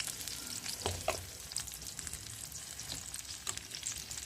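Eggplant pieces fry in a pan with a quiet, steady sizzle and scattered small spatters and pops, heard close but at low volume.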